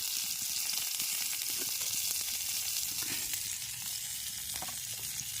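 Chicken pieces fry on a clay roof tile over a fire in rural Konkan, giving a constant soft sizzle with scattered small pops and crackles throughout.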